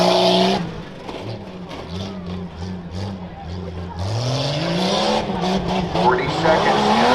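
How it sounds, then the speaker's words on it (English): A Jeep Cherokee races in a rough truck stock class at the Hartford Fair, its engine roaring and revving loudly with tyre noise, while an announcer talks over the action. "Tanner Carlson up from Delaware, driving that Jeep Cherokee."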